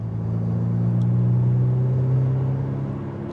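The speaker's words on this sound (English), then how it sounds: "It's really growly, it's really mean sounding." A Ferrari 488 Pista supercar with 720 horsepower idles with a deep, steady engine rumble and growl, close and loud, swelling slightly in the middle before easing off.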